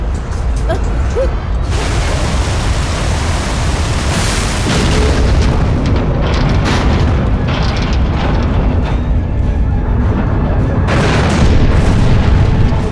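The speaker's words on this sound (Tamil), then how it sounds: "ஹாங்காங் அட்டாக் பண்ண பிராக்மெண்டோட அதிர்வு தான் இது" A deep shockwave rumble from an asteroid fragment hitting Hong Kong in a disaster movie: a loud, sustained roaring boom that swells and holds for many seconds, with rattling debris noise throughout.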